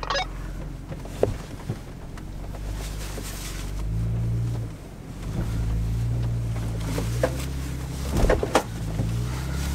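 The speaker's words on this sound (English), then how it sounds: "My engine has sounded really weird though, it's like the fan." A vehicle engine on a mountain track runs with a strange fan-like whirring, a continuous low drone with rising and falling pitch and occasional squeaky honks, close and steady throughout.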